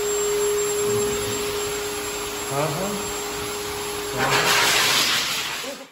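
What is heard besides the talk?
blow dryer blowing air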